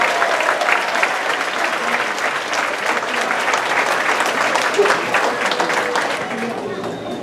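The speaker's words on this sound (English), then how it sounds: "Let's give these students a round of applause" Audience at a fourth grade graduation ceremony applauds the students, sustained dense clapping from a large crowd with voices mixed in throughout.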